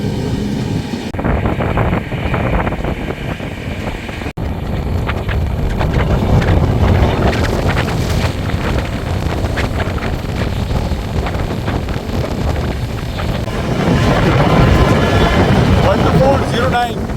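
The 20452 Intercity Express runs from Delhi toward Sogaria, heard as a loud, continuous rumble and clatter with buffeting wind noise close to the microphone, building slightly near the end.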